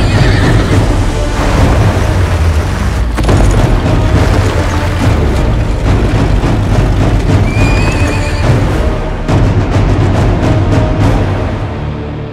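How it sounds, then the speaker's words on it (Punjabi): Horses gallop and neigh in a Punjabi film scene. Loud, dense hoofbeats drum steadily throughout, with whinnies cutting through. Booming impacts and rumbling add to the dramatic mix. "ਉਹਦੇ ਘੋੜਿਆਂ ਦੀ ਟਾਪ ਵੀ ਸੁਣੂਗੀ ਤੁਹਾਨੂੰ"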